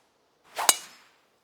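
A golf club strikes the ball in PGA Tour 2K25 with a single crisp, bright clack. The hit is isolated against silence and has a brief whooshing swell around it.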